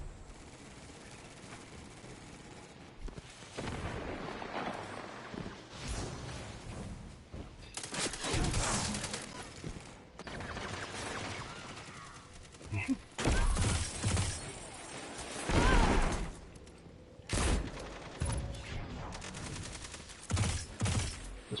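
Sunshot weapon blasts in the Destiny 2 video game: repeated loud explosive bursts and gunfire crackle in a busy battle mix, with heavy hits landing at irregular intervals.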